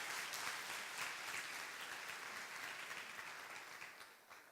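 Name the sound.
congregation applause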